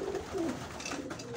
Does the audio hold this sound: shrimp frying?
no